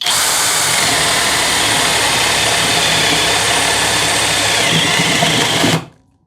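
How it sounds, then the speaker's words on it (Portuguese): A Hanabi LJ-2023 cordless drill with 140 N torque bores with a 1-inch spade bit at high speed, its loud, steady whine holding for about six seconds before cutting off abruptly into silence. "Agora a broca chata de 1 polegada. Primeiro na velocidade alta."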